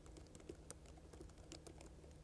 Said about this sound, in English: So this is the regular keyboard.